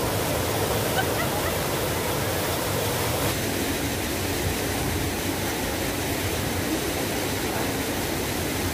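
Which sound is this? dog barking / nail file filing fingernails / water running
water running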